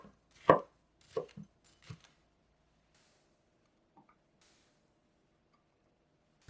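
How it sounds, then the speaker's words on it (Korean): A knife cuts lengthwise through a seeded bell pepper on a board: four or five sharp, close chops in quick succession, then near silence with a couple of faint taps. "파프리카는 안쪽에 씨는 빼주고 길게 썰어줄게요."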